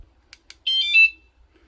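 A budget $18 motorcycle alarm, stuck to the seat cushion with Velcro and partly hidden, gives two quick clicks and then a short, shrill electronic warbling chirp as its armed warning, alone in a quiet space.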